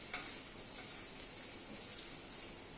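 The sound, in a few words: ginger, green chili and onion frying in pan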